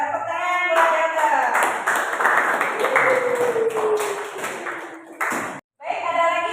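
Applause in a classroom, students clapping for several seconds with voices calling out over it and tonal speech sounds mixed in, stopping abruptly before voices resume.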